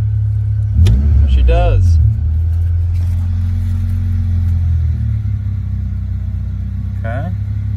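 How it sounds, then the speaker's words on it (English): A warmed-up 1995 Honda Civic engine with idle trouble gets a light tap on the gas, giving a loud, close, low rumble that rises slightly and then settles back, while people talk briefly nearby. "Gonna tap the gas and see if"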